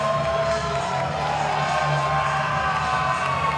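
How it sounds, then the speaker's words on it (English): A wrestling crowd in Cork City cheering at a live event, a dense, steady roar of many voices filling the whole moment, loud and continuous. "listen to that reaction from this Cork City crowd here tonight"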